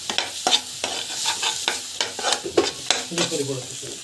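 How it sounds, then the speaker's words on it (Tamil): Spices with asafoetida and chili powder are sautéed in a pan over a gentle sizzle, a spatula scraping and tapping in roughly regular strokes, close and clear with no talk. "நல்லா வந்து வதக்கிட்டுக்கணும்"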